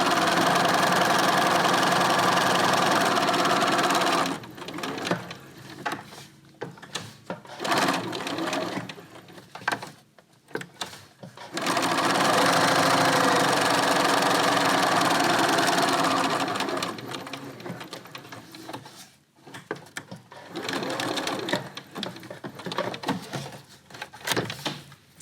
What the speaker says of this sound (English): And now we'll just sew around the outside edge.